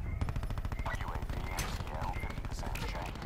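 Rapid machine gun fire in a video game, a steady stream of loud repeating shots running the whole time under ongoing talk.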